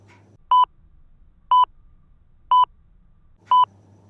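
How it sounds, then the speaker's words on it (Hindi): A quiz countdown timer beeps four times at an even one-second pace, each tone short, clean and electronic against near silence. "आपका टाइमर शुरू होता है अब।"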